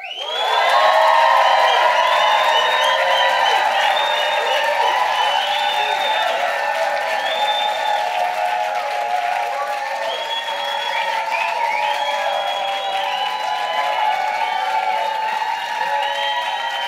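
Audience at a New York Times debate on big tech at the World Economic Forum breaking into sustained loud applause with cheers and whoops, near and continuous, gradually easing.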